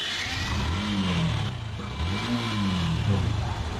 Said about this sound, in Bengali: দেখেন ইঞ্জিনটা কিন্তু সাউন্ডটা একটু টনটনা